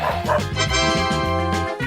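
A cartoon dog barks and yips in a rapid, loud string of voiced calls lasting under two seconds, close and clear, in an animated escape from Willy Wonka's chocolate factory.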